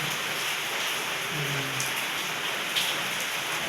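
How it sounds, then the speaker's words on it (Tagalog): Heavy rain falling outside, a dense continuous hiss of drops hitting surfaces, steady and fairly close with a few brief louder splashes. "Ang lakas ng ulan sa labas."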